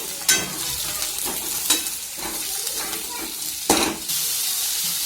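Onion, green chili and garlic fry in a pan with steady, close sizzling, and stirring scrapes and light clatter of a spatula break in now and then.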